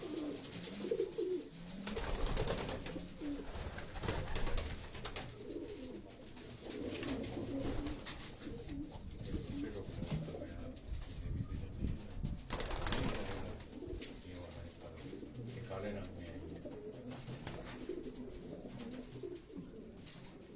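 Racing pigeons in Quetta coo softly and repeatedly in a low, murmuring chorus, with occasional wing flutters and rustling close by.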